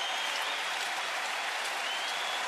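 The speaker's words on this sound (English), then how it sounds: "this enthusiastic crowd coming to its feet" Baseball crowd at Oriole Park applauding and cheering as fans rise to their feet, a dense, steady wash of clapping from a large stadium audience with no talk over it.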